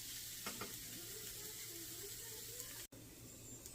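Tortillas fry in a pan for chicken taquitos, giving a steady, close broadband sizzle with a low background hum and a brief dropout near the end; a little faint speech sits underneath.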